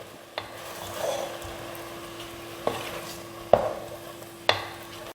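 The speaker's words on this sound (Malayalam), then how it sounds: "നമുക്ക് ഇതൊന്ന് നന്നായിട്ട് ഇളക്കാം." A pot of mango pulissery curry with sour curd is stirred firmly, four distinct scraping knocks of the ladle rising over a low simmering hiss, close and fairly quiet.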